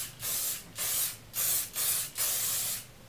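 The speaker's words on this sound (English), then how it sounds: "I seriously can't even feel any hairspray in my hair" Hairspray sprayed onto curled hair in five short bursts, each a close, steady hiss separated by brief pauses.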